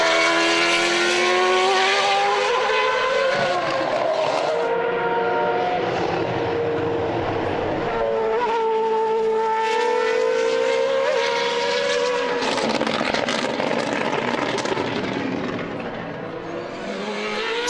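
Formula race cars at the Portimao circuit in Portugal, engines screaming and rising in pitch as they sweep through the opening turns, loud and continuous with several cars passing in succession, faint commentary underneath.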